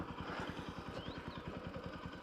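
A motorcycle engine chugs steadily with a fast, even low-pitched pulsing, fairly faint, with a brief high whistle-like sound over it.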